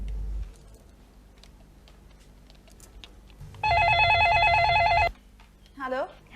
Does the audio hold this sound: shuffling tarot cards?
no